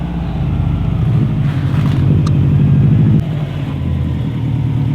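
Subaru engine rumbling through a Tomei Expreme Ti titanium exhaust, a deep loud burbling idle with a short rev swell in the middle before settling back, close by with no talk.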